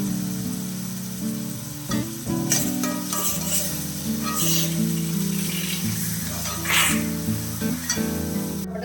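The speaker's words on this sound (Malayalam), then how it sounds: "നമ്മുടെ സവാള വഴണ്ടിട്ടുണ്ട്." Sliced onions sauté in a hot pan for a Kerala red cheera curry, a steady close sizzle with scraping stirs of a spoon, while a deep background hum runs underneath.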